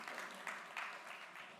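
Audience applause at an Indiaspora philanthropy event, a steady wash of clapping with a few slightly louder surges, fairly faint throughout and without talk over it.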